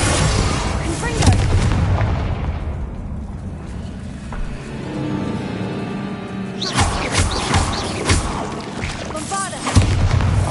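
Confringo spell blasts in the Hogwarts Legacy video game land as repeated booming explosions, with sharp bursts near the start and again in the later seconds over a dense game soundscape.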